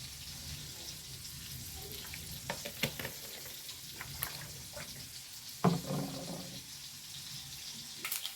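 Coconut oil frying with a steady sizzle, then a sudden burst of crackling and spattering as mustard seeds hit the hot pan, with a few clinks of a utensil.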